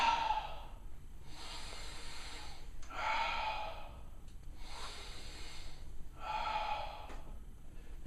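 Slow, deliberate breaths from a martial arts breathing exercise: four long, forceful exhales in a steady rhythm, each a close, airy rush lasting about a second with quiet pauses between.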